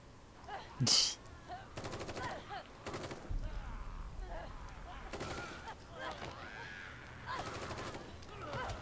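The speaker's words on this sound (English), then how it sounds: "That is a lot of zombies that she is shooting." Bursts of automatic gunfire from a woman gunning down zombies in The Evil Within 2, rapid rattling volleys recurring between quieter stretches, with a loud sharp crack near the start and game ambience beneath.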